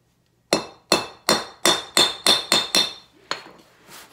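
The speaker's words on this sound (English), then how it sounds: "I've got 20 inches of 1/16 cable, and then I just have a little small aluminum stop," Hammer striking a small aluminum stop onto the end of a 1/16 inch snare cable: about ten sharp, ringing metallic blows in a steady rhythm, close and loud, slowing toward the end.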